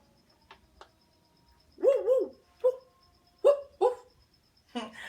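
A few short dog barks and yips, fairly faint and spaced irregularly, with a quiet room behind them and no talking.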